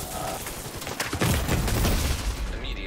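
Bursts of video game gunfire fired with special ammunition, dense and rapid, crackling loudly from about one second in and continuing to the end over a steady background.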